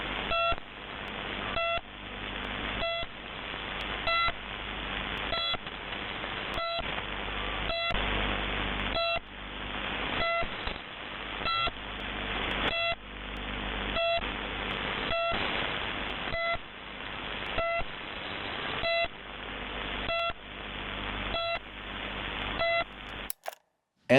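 Presumed Russian shortwave numbers station known as the Pip: a steady train of short repeating pips, roughly two per second, sitting on a band of static and noise, loud and continuous with no voice.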